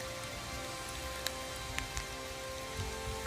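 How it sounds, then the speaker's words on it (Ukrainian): Steady rain patters on a surface, with a few louder drops landing nearby; no voices. "так як почався дощ"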